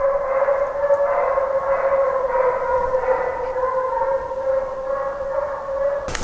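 Hunting hounds bay on a trail during a hound hunt, their drawn-out, howling cries merging into a steady, wavering tone carried from a distance without pause.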